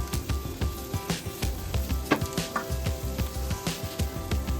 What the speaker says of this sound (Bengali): এবার এগুলোকে ভালো করে নাড়াচাড়া করে নিচ্ছি।